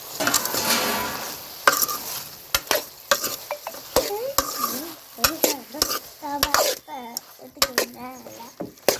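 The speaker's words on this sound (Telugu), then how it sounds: "పచ్చిమిరకాయలు కూడా వేసుకుందామండి." Green chillies frying in a pan for an eggplant chutney, with a spoon scraping and clinking against the pan in uneven bursts over a low sizzle, as voices talk intermittently nearby.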